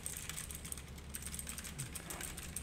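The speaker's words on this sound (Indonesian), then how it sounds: "Ini gua gunain mechanical keyboard blue switch ya" Rapid clicky keystrokes on a blue-switch mechanical keyboard, crisp and close, typed in a quick steady stream.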